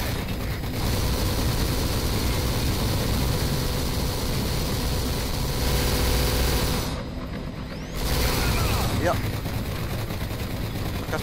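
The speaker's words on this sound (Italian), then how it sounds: "Elicottero." A helicopter in the Kane & Lynch 2 video game drones loud and steady for several seconds amid dense battle noise, briefly dropping out and returning, with someone talking in the game.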